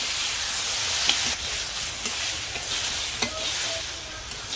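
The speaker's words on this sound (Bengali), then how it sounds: "সবজিটা ভালো করে কষিয়ে নিই" Vegetables sauté in a pan in a village kitchen, a loud, constant sizzle and hiss with occasional scraping knocks as they are stirred, close and unbroken, with nobody speaking.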